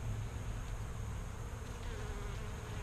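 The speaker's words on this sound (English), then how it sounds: "Very calm hive I got here today." Honeybees buzz steadily in an open beehive, a dense continuous drone of many insects close by with no voices.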